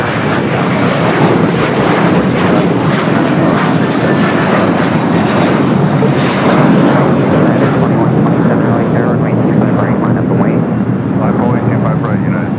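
A Boeing 747 airliner roars loudly past on the south side at LAX, a thick, sustained rumbling jet-engine wash that stays strong and close throughout with no break.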